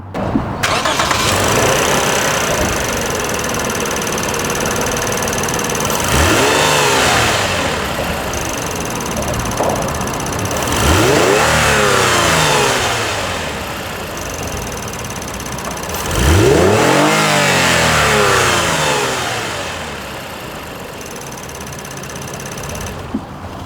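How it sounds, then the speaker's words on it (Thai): A Lexus IS250 V6 engine revs up and settles back three times in slow succession, a steady idle humming between each rising and falling sweep, close and loud. "มาฟังเสียงเครื่องยนต์กัน"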